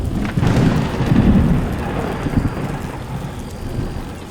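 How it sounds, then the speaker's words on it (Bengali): A loud, close thunder strike rumbles heavily over steady rain falling on surfaces, used as an effect in a Bengali village ghost story set near a shop. "খুব জোরে একটা বাজ পড়ল দোকানের কিছুটা দূরে"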